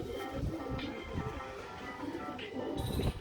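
Domestic pigeons in a breeding loft coo in low, soft, repeated pulses, fairly close and steady across the moment, with faint rustling and a light background hum.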